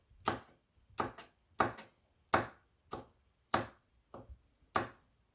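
A knife chopping green chilies on a board while preparing parippu vada, about eight crisp, evenly spaced cuts roughly every two-thirds of a second, close and clear with a quiet background.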